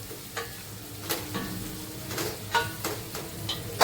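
Onion frying in a pan for dried Bombay duck masala, a steady sizzle broken by repeated scraping strokes of a spatula, close and moderately loud with no speech.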